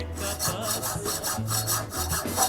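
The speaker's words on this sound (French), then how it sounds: "elle peut appliquer sa force à l'aide d'une scie à métaux pour couper un morceau de métal" Hand hacksaw cutting through a piece of metal in a Brazzaville workshop, rapid back-and-forth rasping strokes in a quick steady rhythm, close and clear with no talk.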